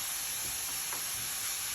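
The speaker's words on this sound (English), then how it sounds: "Exactly 1/2 cup of onions are going in to cook with that steak." Onions and steak frying in a pan on high heat give a steady, close hiss and sizzle with faint crackles, continuous for the whole short stretch and with no one talking.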